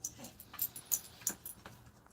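A dog whines and whimpers in short, soft, repeated yips and huffs close by, quiet and alone in a late-night room.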